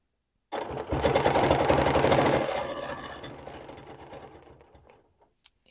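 A sewing machine runs in a steady, close burst of stitching during ruler quilting of circles, starting abruptly, then slowing and fading out over a few seconds, with a faint click at the end.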